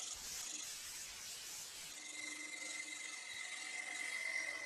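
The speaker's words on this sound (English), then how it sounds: "Because I'm arcing the cut, getting nice shavings coming off." A wood-turning gouge cuts into a mallet handle spinning on a lathe, with a steady continuous rasping hiss of shavings peeling off and a faint whine underneath, alone and close.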